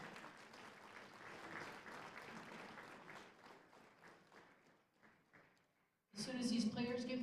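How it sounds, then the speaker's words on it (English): Audience applause at a women's 8-ball pool tournament, moderate and fairly distant, dying away after about five seconds before a louder burst of other sound and voice at the end. "Please give Pearl a big round of applause"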